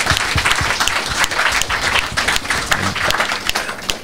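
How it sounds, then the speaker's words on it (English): Audience applause at a poetry slam for a poet who has just finished a poem, a dense, steady crowd of clapping hands that fills the whole stretch without pause and sounds fairly close. "Give her another round of applause,"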